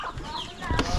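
Chickens cluck in a short, close burst at a rural Filipino home, a few quick overlapping clucks that get louder toward the end.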